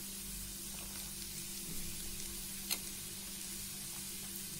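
Beans, carrot and cabbage frying in a pan make a continuous, even sizzle with soft stirring crackles and one brief sharp pop, heard alone without any voices.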